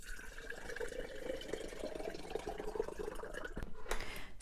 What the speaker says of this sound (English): Now fill up the rest of your jar with filtered water.